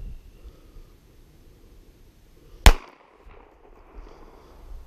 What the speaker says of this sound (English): All right, same deal, two shots.